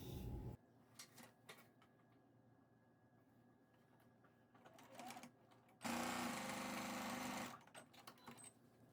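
A sewing machine stitches a quarter-inch seam on a patchwork scrap pillow cover in short, fast bursts of whirring needle chatter, ending with one louder sustained run before stopping.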